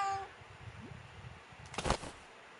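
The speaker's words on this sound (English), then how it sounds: "The rental guy's eyes widen at the sudden sound of a cat's mewling." A single short cat meow rises out of quiet background ambience in the video game 428: Shibuya Scramble, heard alone and fairly close.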